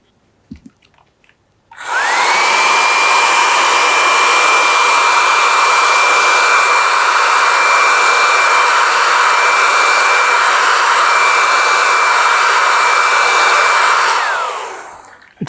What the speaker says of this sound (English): So I'll just dry that with a hairdryer for a minute.